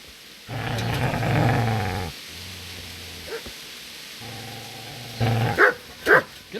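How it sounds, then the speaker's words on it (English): Dog growling and barking in the video game Kingdom Come Deliverance: a long low growl, a shorter rumble, another growl, then a few sharp loud barks close by. "Get away, you mutt!"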